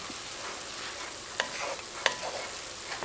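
Sloppy joe ground meat and onions sizzle steadily in a pan, with a soft continuous fry broken by a couple of sharp stirring clinks and scrapes near the middle.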